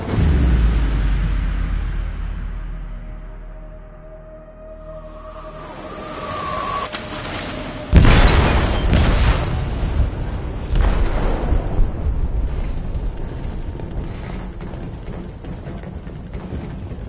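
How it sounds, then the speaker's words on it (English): An explosive detonates in a ship's hold in the video game Detroit: Become Human, a sudden loud boom breaking over a low rumbling drone, then a sustained roar of debris and rumble. "They detonated an explosive in the hold."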